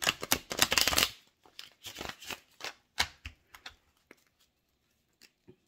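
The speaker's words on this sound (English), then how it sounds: "let's shuffle this deck a little bit." A deck of tarot cards is shuffled close up, a fast riffling burst at the start followed by scattered taps and soft slides that thin out into quiet.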